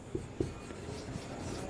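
Chalk or marker strokes on a board during a chemistry lesson, a few short, close scratching taps over a quiet room.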